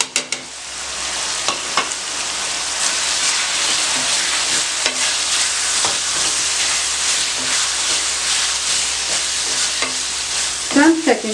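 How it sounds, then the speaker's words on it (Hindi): Chicken keema frying with garlic, salt, chilli, kasuri methi and turmeric, sizzling steadily and close while a spoon scrapes and stirs through it at irregular intervals, with no talking. "चंद सेकंड के लिए आप फ्राई करें कि मिर्चें फ्राई हो जाएं"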